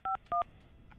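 Telephone keypad tones dialing a McDonald's number: two clear, evenly spaced dual-tone beeps followed by a faint third, with no talking.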